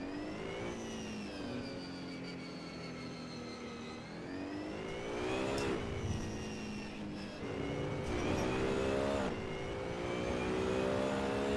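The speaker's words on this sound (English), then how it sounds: "This car has really annoying sound" A Ferrari race car engine in the Assetto Corsa racing game drones steadily at high revs, its pitch climbing and dipping through gear changes, loud and alone with no talking.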